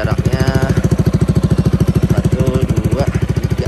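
A motorcycle exhaust, heard from behind the bike, idles loudly up close with a fast, steady pulsing thump, while a voice speaks briefly over it.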